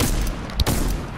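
A gold revolver fires in Fortnite, a single loud sharp shot cracking out mid-clip over a low steady game background.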